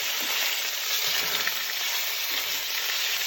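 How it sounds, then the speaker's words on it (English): Beef sears in oil in a medium-sized pot for a Lebanese lima bean stew, giving a dense, even, loud sizzle that runs without pause, close and with no talk. "Add the oil in a medium-sized pot and start by cooking off the beef."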